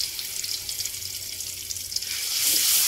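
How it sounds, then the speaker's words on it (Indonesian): Ground spice paste sautés in hot oil in a pan, giving a close, steady sizzle and hiss that swells louder near the end, with no talk. "Kita tumis bumbu yang sudah dihaluskan."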